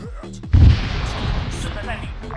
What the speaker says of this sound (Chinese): 炸药放好了。 Fire the hole！